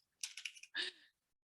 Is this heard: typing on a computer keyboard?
yes